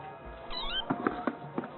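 A cat meows once, a faint rising-and-falling call indoors, followed by a few soft thumps, quiet and nearby.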